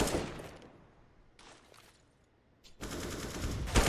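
Gunfire in Counter-Strike: Global Offensive, heard in a pro match, opens with a burst, thins to a few sharp isolated shots, then erupts into a sustained loud rattle of rapid fire toward the end.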